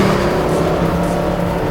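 A Mercedes SLS AMG with a high-horsepower V8 accelerates hard on a racetrack, a loud, sustained roaring engine note heard from inside the car without any speech.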